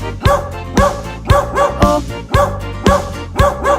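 A dog barks in a steady series of sharp yips, about eight in under four seconds, close and loud, within the children's song "Bingo" in Polish, with a rhythmic musical backing underneath.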